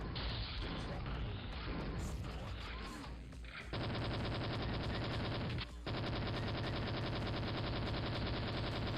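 Dense, continuous rapid-fire machine gun strafing in a video game, loud and relentless with a brief break, layered over chaotic game effects and booms.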